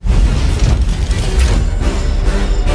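An artillery shot explodes in the Kaiju No. 8 anime: a loud, sustained booming roar with heavy low rumble that fills the whole moment without easing.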